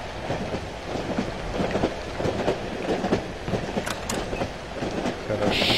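A train carriage rolls along in the horror video game Cry of Fear, a steady rumbling clatter of wheels on track that continues throughout with no pauses.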